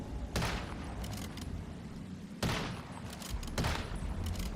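Gunfire from regular ammo in the Once Human video game, heard as three sharp, loud shots spaced about a second or two apart, each with a brief echoing tail over steady background noise.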